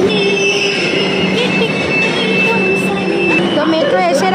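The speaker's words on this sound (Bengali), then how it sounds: "তো মেট্রো এসে এরকম দাঁড়িয়ে আছে" A metro train stands at a platform beneath the Ganges, its loud steady rumble and hum carrying sharp high squeals of wheels and brakes throughout, with voices speaking in the background.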